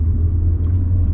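A 2003 Mitsubishi Verada Xi with a 5-speed gearbox driving along, heard as a steady, close low engine and road rumble that holds an even level throughout the short stretch, with no talk.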